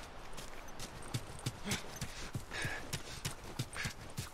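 Horse hooves clip-clop at a steady walking rhythm in The Last of Us, each fairly close, even hoof strike clear over faint background ambience.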